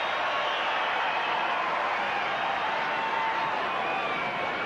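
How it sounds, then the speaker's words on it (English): Stadium crowd at a 1990 Wests versus Broncos rugby league match, a broad, steady roar of cheering heard from a distance, with no clear peaks or breaks. "I was going to say this will bring a cheer"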